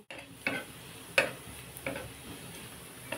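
Garlic frying gently in oil over a low gas flame, a soft steady sizzle broken by a few sharp taps of a utensil against the pan, close and alone.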